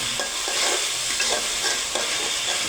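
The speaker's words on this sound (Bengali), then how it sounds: "দেখেন ভুনা হচ্ছে" Taro sautéing with garlic in a hot pan, a steady loud sizzle broken by repeated scrapes and stirs of a spoon against the pan, with no voices.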